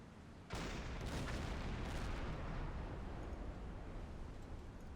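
A submarine deck gun fires in a Silent Hunter 5 Battle of the Atlantic naval battle, one sudden loud boom that rolls into a long, heavy rumbling roar, slowly fading, with no talking.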